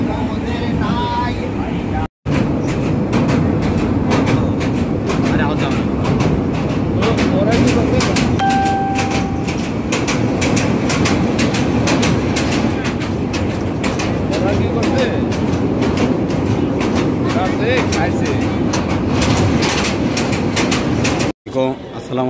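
An Egarosindhur passenger train travels on the Dhaka to Kishoreganj line. A loud, continuous rumble of wheels on rails and a rattling carriage runs throughout, with voices faintly audible over the noise.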